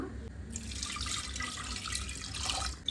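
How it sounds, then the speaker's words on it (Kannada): Water pours steadily into washed lentils for sambar, a soft, continuous splashing trickle close by that stops abruptly near the end, with no one speaking. "ಇವಾಗ ಸ್ವಲ್ಪ ಇದಕ್ಕೆ ನೀರನ್ನ ಸೇರಿಸೋಣ"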